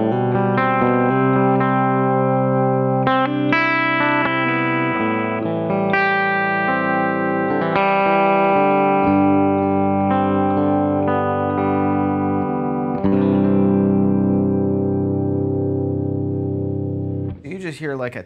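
Electric guitar played through a Cali compressor pedal with dry signal blended in, a melodic line of picked notes and chords with long, even sustain, heard close and clear and alone for the whole stretch.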